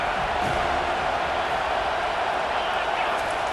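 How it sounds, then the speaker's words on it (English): In a College Football 25 video game, a stadium crowd cheers on third down as a dense, steady roar of noise that holds at an even loudness throughout. "Decibels rising as the crowd gets behind this defense on 3rd down"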